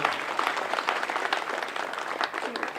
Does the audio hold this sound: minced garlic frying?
no